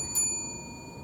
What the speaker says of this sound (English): A warning bell will ring once.